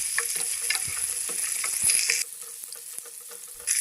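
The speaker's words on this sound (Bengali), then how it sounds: "ছোট্ট এক টুকরো পেঁয়াজ কুচি কুচি করে পেঁয়াজটা দিয়ে সুন্দর করে লাল লাল করে ভেজে নেব" Chopped onion frying in a pan with oil for a mustard-paste bhola fish curry, a steady close sizzle with scattered pops and stirring scrapes. Partway through the sizzle dips quieter, then swells again at the end.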